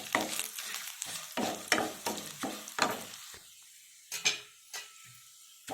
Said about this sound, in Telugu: జీడిపప్పు కూడా బాగా ఫ్రై అవ్వాలి.